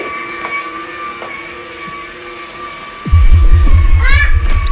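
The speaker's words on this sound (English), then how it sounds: "Have a good ride in your train." A toy train ride in an augmented-reality Christmas app starts up partway through, with a loud low rumble and rising whistle-like tones near the end. Before that there is a quieter background with steady tonal hum.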